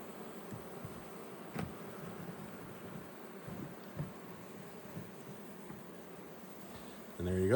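Honey bees buzz in a steady, dense drone while a package of bees is installed into a hive outdoors, with faint handling knocks and a louder rush at the very end.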